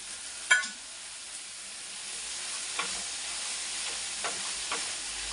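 Cashews fry in a pan of hot oil with a steady, moderate sizzle, a sharp crackling burst near the start and a few small pops after as the nuts settle.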